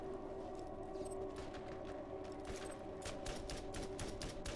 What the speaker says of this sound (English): There's people over there shooting me.